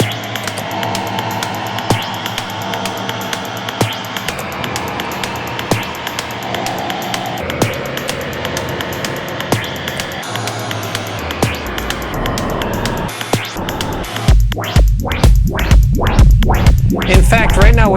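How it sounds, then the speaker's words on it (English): A Strymon Nightsky reverb pedal played as a synth engine gives dense, sustained washes of filtered ambient tone over a steady drum pattern, swelling into brighter rhythmic pulses near the end. "So everything that you're hearing that isn't a drum is actually the night sky."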